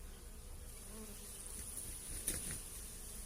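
A close, steady buzz of honeybees at a hive frame, buzzing in warning, hums throughout, a continuous drone with a slight rise near the end.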